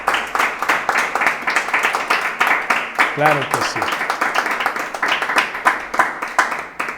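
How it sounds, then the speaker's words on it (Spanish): Audience applause in a church reflection gathering on 1 John: rhythmic clapping runs steadily throughout, with a voice speaking over it briefly. "vamos a aplaudirle a Marco, a Dios por la vida de Marco"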